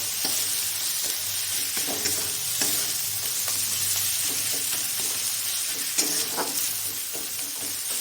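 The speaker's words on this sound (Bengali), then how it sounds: "ধীরে ধীরে জিরে গুঁড়ো, ধনে গুঁড়ো, হলুদ গুঁড়ো এগুলো দিয়ে দেব। তারপর ভালো করে মশলাটা কষিয়ে নেব।" Ground cumin, coriander and turmeric fry in a pan for a fish curry, making a loud, steady sizzle throughout with repeated scraping strokes of the stirring spoon.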